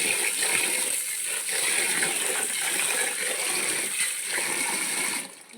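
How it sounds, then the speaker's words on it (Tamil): Ration rice being rinsed in water for idli: continuous swishing and splashing, close and fairly loud, with grains and water churning steadily, then easing off at the very end. "ஒரு 4 தண்ணியில் அலசிட்டு"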